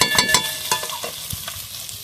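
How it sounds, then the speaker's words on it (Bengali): Tomato frying in hot oil with spices, a steady sizzle broken by the scrape and clatter of stirring at close range, no voices. "ভেজে নিতে হয় তেলে ভালোভাবে। টমেটোটা ভালোভাবে ভেজে নিয়েছি।"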